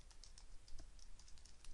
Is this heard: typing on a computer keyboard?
yes